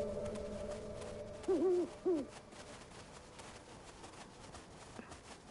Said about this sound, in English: Look at the owls back there with him.